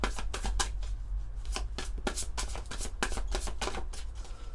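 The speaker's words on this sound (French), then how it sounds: "on va prendre quelques cartes de l'oracle de Lumière de Fée, de Valérie Mottet" A deck of fairy-themed oracle cards being shuffled by hand, giving a steady run of quick papery riffles and slaps, fairly close and alone with no talking.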